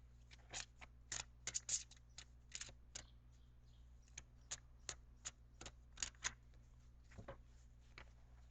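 Angel cards shuffled by hand for a tarot reading: a quiet series of crisp, irregular snaps and riffles with short pauses between, no voices.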